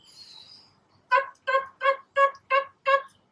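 A voice imitates a hen with six short, evenly spaced clucks in a quick rhythm, after a faint breathy sound.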